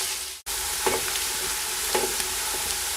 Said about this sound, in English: Nice high flame and vigorous stirring. You keep this going on until the onions are brown